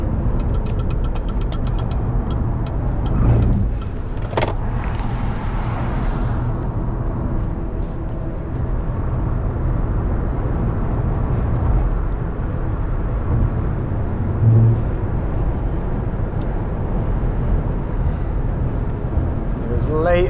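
BYD Seal electric car lapping a race track, a steady drive noise with road and wind rumble that holds constant throughout, with someone talking over it.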